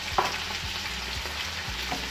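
Chicken with garlic frying in a home pan, a constant bright sizzle with periodic low clunks and scrapes of stirring, close up and without voices.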